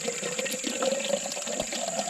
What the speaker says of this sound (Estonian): me on vaja pudelit täita. Ja nüüd me hakkame seda tegema.